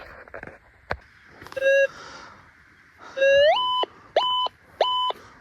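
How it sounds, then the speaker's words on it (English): Metal detector signalling over an iron bar buried outdoors, a series of sharp electronic tones sweeping upward then holding, repeated several times in short bursts, loud and close with no talking. "An iron bar ringing up as pure gold."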